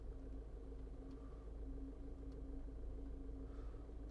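A 2012 Range Rover Evoque creeps forward slowly while self-parking, its engine a steady low idle rumble with a faint hum, continuous and fairly quiet throughout.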